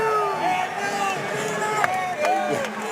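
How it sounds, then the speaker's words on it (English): Crowd at a cage fight for a pro lightweight title bout, a distant rhythmic chant of many voices in the arena, under commentators' talk with occasional shouts. "You hear the crowd chanting"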